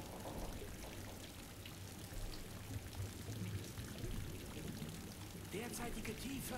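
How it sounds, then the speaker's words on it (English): Water pouring and splashing inside a flooded submarine in Silent Hunter 3, a steady rushing flow with low rumbling engine hum, continuing alone without talk. "So it looks like we have now managed to control the flooding, although I can still hear water."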